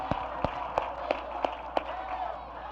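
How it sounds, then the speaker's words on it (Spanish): Studio audience applause, a sparse rhythmic clapping in about six evenly spaced claps at moderate volume over a steady room background. "vamos a darle un aplauso"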